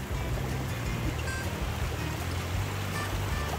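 Strong river current rushes past someone wading across, a constant close roar of flowing water with low churning and faint splashes, steady throughout.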